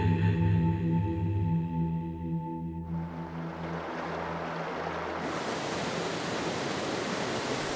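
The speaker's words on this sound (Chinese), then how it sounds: "湍急的河水挡住去路" A fast-flowing mountain river near Gongga Snow Mountain in Sichuan roars as a dense, steady hiss of rushing water, taking over after a few seconds of fading music and continuing loud and unbroken.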